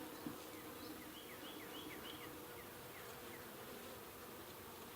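Honey bees buzz around an open horizontal hive while frames full of brood are being inspected, a soft, steady droning hum with a few brief individual buzzes passing close.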